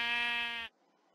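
A single sheep bleat from the Minecraft video game, one clear, steady, buzzing baa lasting under a second before cutting off abruptly.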